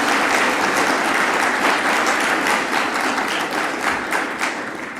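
A dinner crowd gives loud, sustained applause, a thick wash of many hands clapping together that eases off slightly near the end.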